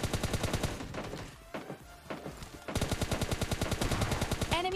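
Rapid automatic gunfire from an M416 rifle in PUBG Mobile Lite, fast evenly spaced shots in two long bursts separated by a short quieter gap, loud and close.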